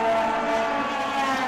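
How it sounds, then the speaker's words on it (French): A prototype race car roars past at speed on a circuit during a Barcelona endurance race, its engine a steady sustained whine with a slight pitch shift, loud and close. "Attention au freinage de Perrois, il est à l'attaque dans le trafic"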